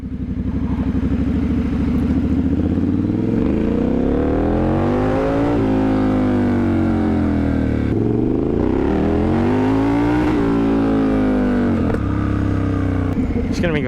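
A Triumph Scrambler 1200 motorcycle accelerates hard in sport mode, its loud, close engine rising and falling through several gear changes with steady wind noise throughout.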